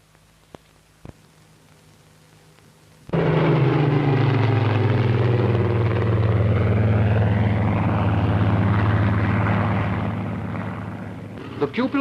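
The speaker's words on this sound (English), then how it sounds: "The pupils now have an opportunity of slow flying their aircraft under actual carrier deck landing conditions." A propeller-driven fixed-wing trainer flies slowly over a carrier deck, its engine drone rising abruptly and holding loud and steady with a low throbbing tone, then easing slightly toward the end.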